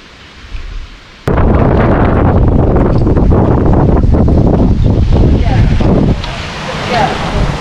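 Loud, roaring wind buffets the microphone while riding a Suzuki GS750 motorcycle through the English countryside; it bursts in suddenly after a quieter moment and stays dense and continuous, easing slightly near the end.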